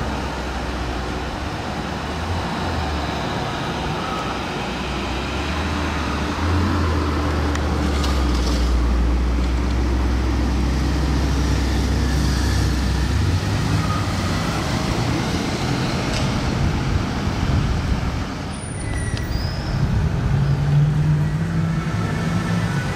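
A car fitted with a non-stock aftermarket exhaust arrives from a distance in Monaco, its low engine rumble growing steadily over a continuous street and traffic din, with a few brief higher accents near the end.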